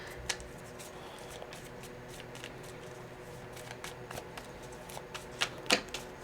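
Tarot cards are shuffled, giving quiet, irregular riffling clicks and soft slaps that grow busier and louder toward the end, close by with no speech.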